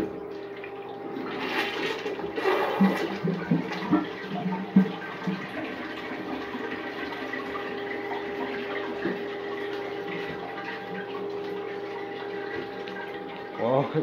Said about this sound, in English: See how it flushes on a low water line.